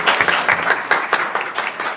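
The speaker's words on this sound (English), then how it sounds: "You can clap for him." A school board meeting audience claps for a student, a short burst of close, uneven hand claps lasting about two seconds.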